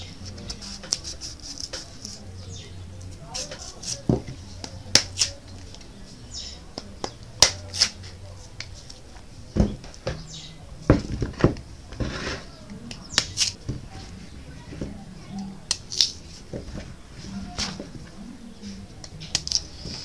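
Knife peeling raw yam for Ghanaian yam porridge, a series of close, irregular scraping and slicing ticks with soft handling noises, faint speech in the background.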